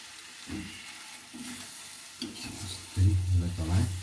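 Chicken curry with tomatoes is stirred in a pan, with several close scraping strokes over a soft sizzle that grow louder toward the end.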